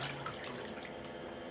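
Water swishes softly in the basin of an ion detox foot bath, a brief, quiet liquid sloshing with nothing else over it.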